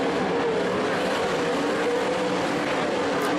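Race cars roar steadily around the Skagit Speedway oval, a loud continuous engine drone with no break across the stretch.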